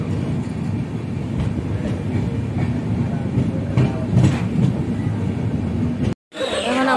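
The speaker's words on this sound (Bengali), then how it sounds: "এখন আমরা ট্রেনেই আছি।" A train in motion between Tinsukia and Lumding in Assam, heard from inside the carriage as a steady low rumble with faint rhythmic clatter, broken by a brief dropout near the end.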